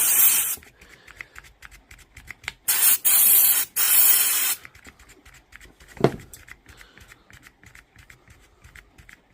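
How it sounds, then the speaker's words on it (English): Several sharp bursts of aerosol spray hiss close by, short and longer blasts separated by quiet handling noises and a single knock. "spray it with electrical contact cleaner and around the motor and then around the switch here"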